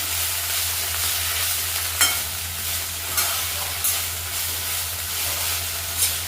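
Ingredients for mint pulao fry in a pan, a dense, bright hissing sizzle held steady throughout, broken by a few soft scrapes of stirring, close and fairly loud with no talking.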